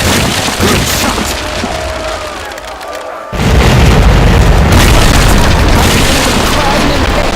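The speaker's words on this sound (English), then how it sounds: "Cannons loaded. Portside fire!" Broadside of ship cannons firing from a sailing warship in the naval strategy game Commander: Conquest of the Americas, loud sustained booming and crackling blasts that swell after a brief lull, with voices over the din.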